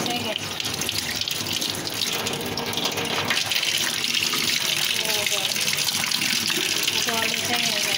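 Water gushes steadily from a household tap as the supply comes back on, a loud continuous splashing rush close by, with a voice talking faintly underneath.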